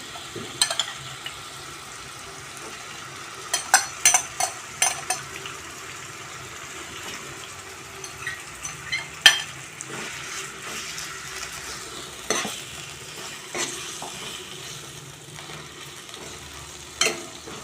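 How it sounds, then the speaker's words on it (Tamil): Marinated chicken frying in oil in a covered pan for chicken fried rice: a continuous soft sizzle broken by scattered sharp crackles and pops, moderately close, with no talking. "எண்ணெயில் நல்லா ஃப்ரை பண்ணணும்"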